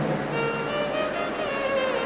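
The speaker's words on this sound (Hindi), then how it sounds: "बहुत तेज जलवृष्टि है" Heavy rain drumming on an outdoor tent pavilion at a large religious gathering, a loud, dense, steady wash of noise with no breaks and no talking.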